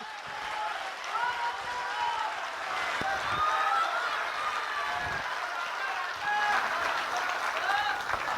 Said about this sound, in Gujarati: જોરથી તાળીઓ બધા.